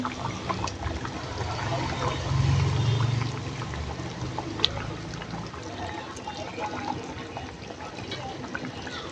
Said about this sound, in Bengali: এই তো উপর দিয়ে মাছ দিয়ে দিচ্ছি